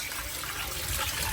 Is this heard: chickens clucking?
no